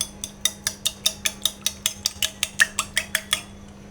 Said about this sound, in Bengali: তো ডিমটাকে আমি ভালো করে ফেটিয়ে নেব